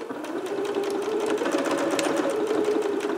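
A sewing machine backstitches a dart on a cap-sleeve dress, giving a steady, even mechanical hum with a rapid needle chatter throughout the short stretch, alone with no talk.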